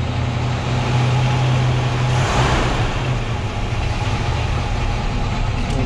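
A 1960 Chevrolet Corvette's steady, low engine idle rumbles continuously at close range, with a faint lighter hiss rising briefly midway.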